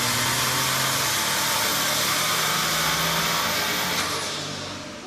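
A Toyota GR Corolla on a dyno run with a Stage 3 intercooler, its engine roaring loud and continuous at high revs, rising in pitch and then easing off near the end, with no talking.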